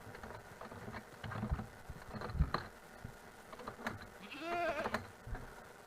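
A single Minecraft goat bleats, wavering and fairly clear, over a busy backdrop of soft clicks and pattering game noise.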